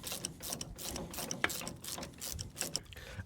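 A ratchet clicking as a brake caliper is refitted on a race car, bursts of quick metallic clicks in uneven runs, close but fairly quiet, with no talk.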